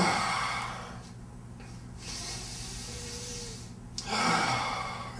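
Slow, deep chest breaths drawn in and let out during a Pilates session, airy inhales and exhales rising and falling over a quiet room background, with no talking.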